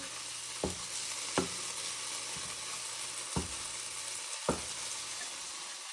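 Kerala fish curry fries in hot oil with a steady, close sizzle while a spoon stirs it, adding a few sharp scraping knocks against the pan at irregular intervals.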